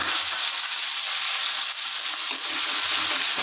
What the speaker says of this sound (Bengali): একই সঙ্গে আমি এবার টমেটো কুচিটা এর মধ্যে দিয়ে দিচ্ছি।